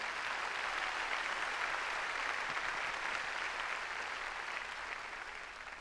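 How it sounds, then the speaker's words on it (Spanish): A church congregation claps in steady, dense applause at a moderate distance, holding for several seconds and tapering off slightly at the end. "Dele un fuerte aplauso al Rey."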